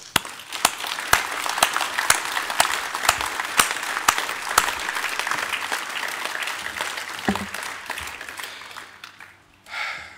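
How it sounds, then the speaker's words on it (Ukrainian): A crowd applauds steadily, a dense wash of clapping with a few louder individual claps, fading out toward the end. "Я прошу вас підтримати аплодисментами Юлію Тимошенко."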